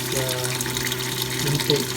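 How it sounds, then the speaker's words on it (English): An air pump bubbles water in a kayak livewell bait tank with a continuous close gurgling hiss and a steady pump hum underneath. "So it's now creating a bubbles as well."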